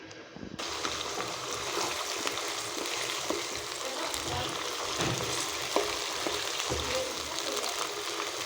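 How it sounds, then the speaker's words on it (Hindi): Chicken pieces fry in oil in a karahi pan, a steady close sizzle and crackle throughout with occasional clinks of stirring. "चिकन हमारा फ्राई हो चुका है।"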